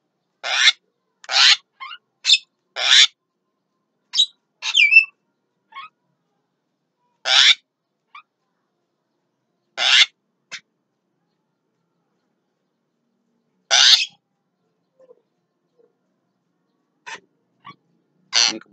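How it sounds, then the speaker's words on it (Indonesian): A jalak kebo, or buffalo myna, with yellow eyes gives harsh, raspy call notes in short, irregular bursts separated by silent gaps, close and clear. "Ini kebetulan burung jalak kebonya mata kuning ya, mata putih lepas ya, bit jalak kebo."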